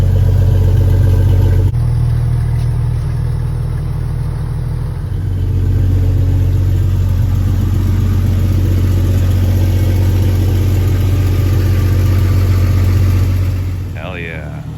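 Jeep Cherokee XJ engine with a freshly installed exhaust, running at a steady, throaty idle close by, a brief rev change early on and the note dropping off near the end.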